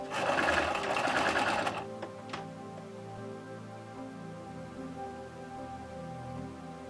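A sewing machine runs loud and fast for just under two seconds while stitching recycled sweater fabric into a beanie, then stops. A couple of faint clicks follow, then low room hum.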